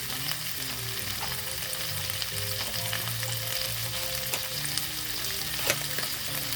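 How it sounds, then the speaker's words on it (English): Sausage and peppers frying in a pan give a steady, close sizzle with crackling spits and the scrape of stirring, continuous throughout with no talking. "Ooh, you could hear it sizzle."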